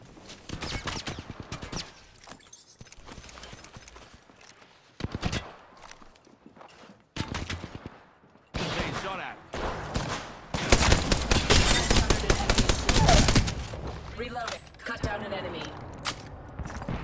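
Gunfire in a video game battle comes in scattered shots and rapid volleys, with a long, loud, dense stretch toward the end, broken by brief quiet gaps and mixed with other game effects.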